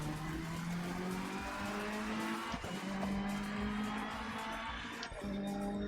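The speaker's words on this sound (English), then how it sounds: "Oh, Ferrari sounds epic." Ferrari GT3 race car engine in the Assetto Corsa Competizione racing game, a loud sustained high-revving drone with brief dips at gear shifts and faint tire squeal.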